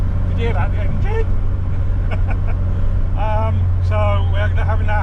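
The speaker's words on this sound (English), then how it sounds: "So, did you hear that, the engine?" A Sierra car engine with a broken spark plug runs steadily with a deep, continuous low rumble throughout, while people talk over it intermittently.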